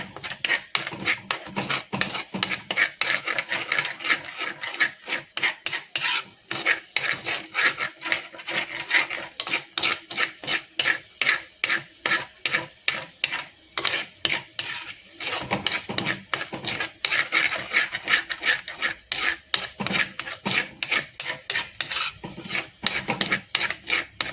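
Masala being stirred in a pan, a continuous scraping and rasping of a spoon against the metal in quick repetitive strokes, close and loud, with occasional clinks.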